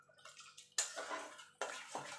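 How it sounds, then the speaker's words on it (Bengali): Water splashes into a freshly washed mixer-grinder jar in a home kitchen, a close running pour that stops and starts in two or three short bursts. "এবার আমি মিক্সির জারটা ধুয়ে একটু জল দিয়ে দেবো।"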